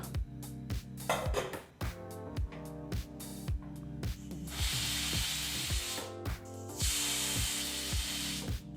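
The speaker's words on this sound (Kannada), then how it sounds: "ಈಗ ಇಲ್ಲಿ ಕುಕ್ಕರ್ ಎರಡು ವಿಸಲ್ ಬಂದಾಯಿತು" A pressure cooker of aloo matar rice lets out long hissing steam whistles in two extended bursts, under a constant rhythmic, repeating ticking and clanking that runs through the whole clip.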